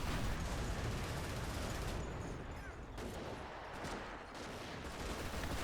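Light machine gun fire from LMG Grenadiers in a strategy war game, a dense, continuous crackle of rapid shots mixed with distant artillery and battle noise, steady and loud throughout.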